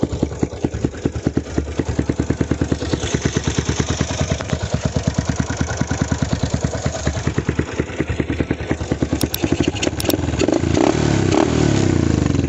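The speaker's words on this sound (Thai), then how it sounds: "โคตรดังเลยท่อ" A loud, close Yamaha Spark 135 motorcycle with a 62 mm bored-out cylinder, rich tune and loud exhaust burbles at a choppy idle with a rapid popping rhythm, then revs up into a rougher, sustained roar near the end.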